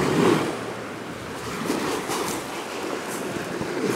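Waves lap steadily at the shore of Lake Ranco on a cold day, a continuous broadband wash of water with wind noise, moderately loud and close, no voices.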